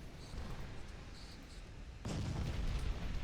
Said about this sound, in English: Oh, big kaboom. Ammo detonation.